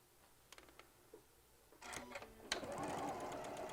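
Quilt pieces are chain pieced on a sewing machine set to a quarter-inch seam; a few faint clicks and taps come first, then the motor starts up into a steady, moderately loud run of stitching.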